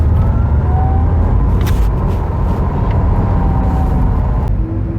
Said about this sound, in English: Audi has decided to engineer in some fake motor noises. Appropriately enough, Audi calls it the E-Tron sports sound.